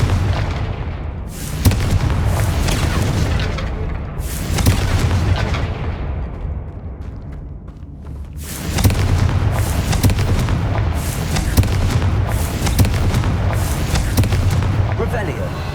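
Blasting-curse explosions from Confringo spells in the Hogwarts Legacy video game on hard difficulty: loud, repeated booming blasts in clustered bursts, with a brief lull before the barrage resumes, under steady game ambience.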